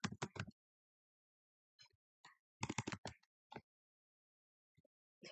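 Clicks of typing on a computer keyboard, a few quick clustered keystrokes separated by silence, close and fairly quiet.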